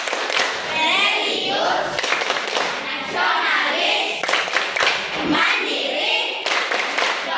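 A group performing the Tepuk PPK clap chant, with rhythmic unison clapping running throughout alongside loud chanted voices, close and dense.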